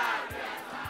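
A studio audience at a BRI music show shouts in unison, a loud crowd cry with short bursts of voices, no other speech on top.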